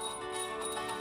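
A small prayer bell rung by a child during a home puja gives a brief, steady metallic ring with sustained bright tones, faint and heard alone.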